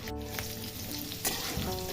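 Potato and young jackfruit pieces frying in hot oil in a pan, a loud continuous sizzle with crackling bursts and a brief stir, no talking.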